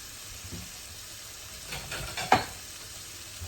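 Shrimp frying in olive oil in a skillet makes a soft, steady sizzle and hiss. A short burst of crackling and a stir-scrape rise in the middle, with no voices over it.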